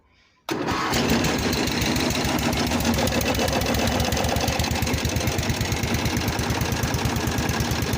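A 1988 Simplicity 7116H garden tractor engine catches after a short silence and settles into a steady, loud, rhythmic idle with a fast, even chugging that holds to the end.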